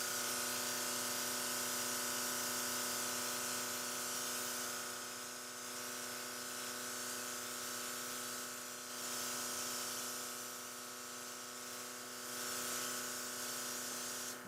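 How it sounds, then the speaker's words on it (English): A makeup airbrush powered by a small compressor hisses in a steady, continuous spray alongside a constant motor hum, close and fairly quiet, with no pause. "I'm gonna spray my tissue, perfect, and spray my face."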